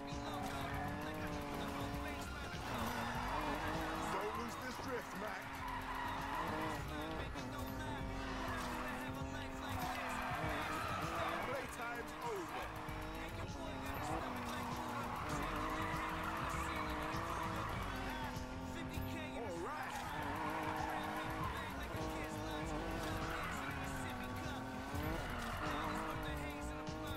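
Car drifting in the racing game Need for Speed Payback: a sustained, revving engine whine with long stretches of squealing tires, loud and continuous throughout with only brief dips in pitch.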